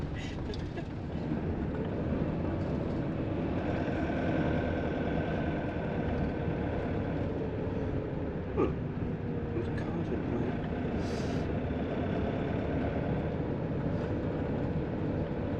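A car drives along a narrow single-track road through the Outer Hebrides, passing close to a front garden, its engine a steady, loud, continuous drone with road rumble inside the cabin.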